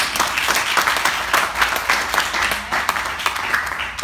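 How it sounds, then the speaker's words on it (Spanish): A church congregation applauds in a lively, continuous burst of clapping that fills the room steadily from start to finish, with no one speaking over it. "Dele palmas al Rey."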